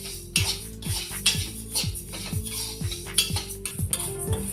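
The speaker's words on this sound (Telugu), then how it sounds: "బియ్యం వేయించుకుందాం అండి. బియ్యం కూడా వేయించుకుంటే బాగుంటాయి." Rice grains dry-roasted in a pan for sweet chakkera pongal, with repeated scraping and stirring clinks of a metal spoon against the pan in a steady rhythm, close and fairly loud, over soft background music.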